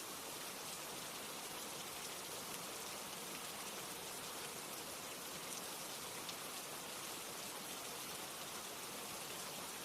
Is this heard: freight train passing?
no